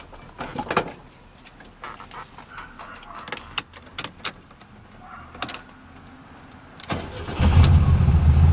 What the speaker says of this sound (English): let's go ahead and start her up, let her run.